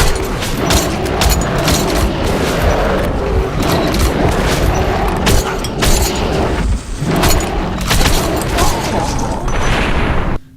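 Loud explosions and bursts of gunfire from the video game Metro Last Light Redux, dense repeated booms and rattling shots filling the scene with a brief drop near the end.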